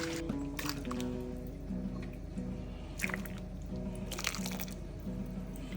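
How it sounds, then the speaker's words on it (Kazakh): Water poured in to dissolve kurt, dried Kazakh curd, with soft liquid trickles and drips over a steady low hum, close but fairly quiet. "Құртты езу үшін мынадан суды құямыз."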